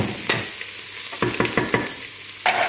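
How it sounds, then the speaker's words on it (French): Onions for an Italian tomato sauce sauté in a pan with a steady, close sizzle, and a spoon stirs and scrapes through them a few times. "Regardez, les oignons sont en train de revenir."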